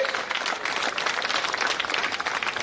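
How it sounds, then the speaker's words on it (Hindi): A large crowd gives sustained, even applause at the Khelo India Youth Games closing ceremony at Boat Club, Bhopal, many hands clapping together in a dense, continuous wash. "इनके लिए जोरदार तालियां, एक बार पूरा मध्य प्रदेश जोरदार तालियां बजा दे।"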